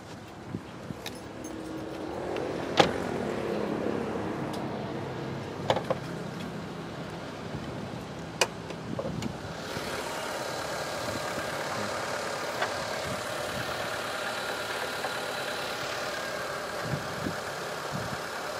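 A 2002 petrol car engine idles in a steady, even low rumble, heard up close in the engine bay with a few sharp clicks, and the tone shifts slightly partway through.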